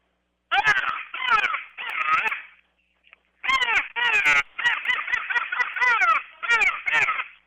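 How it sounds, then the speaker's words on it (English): A hand-blown crow call used as a hunting game caller, giving loud, close, raspy caws in bursts of two or three with short gaps and a longer pause midway, rough and nasal like a real crow. "the crow call usually works real well"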